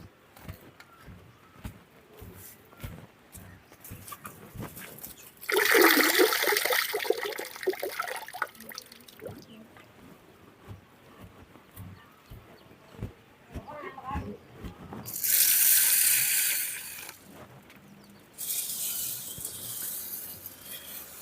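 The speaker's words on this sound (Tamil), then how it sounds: "நல்லா சுத்தம் பண்ணி கழுவி எடுத்துக்கணும்" Green gram being washed by hand in water, heard as splashing and swishing in a few loud bursts between quieter stretches, with someone talking over much of it.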